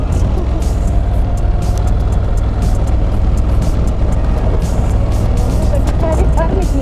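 Motorcycle carrying two riders along a northern road, a loud continuous engine rumble mixed with wind buffeting, steady and close throughout, with people talking over it.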